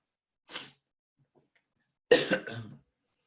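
A person with a cold coughs, one short cough followed after a pause by a longer burst of two or three coughs, close and alone in a quiet room.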